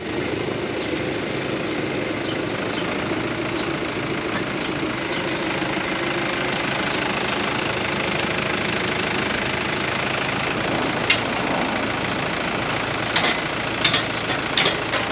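A farm tractor idles steadily outdoors after being hooked to a cultivator, a constant loud engine rumble with slight knocking, a few brief clinks near the end, no talking.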